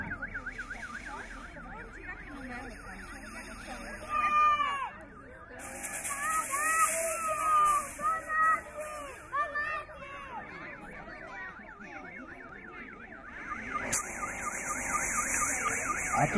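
A fire engine siren wails near a burning house, its rising and falling cycles loud at the start and again at the end, while voices talk over the middle stretch.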